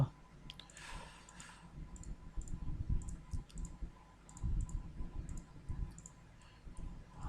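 Computer mouse clicks while drawing walls in 3ds Max, sparse, quiet clicks scattered across a low background hum, with a brief rustle early on.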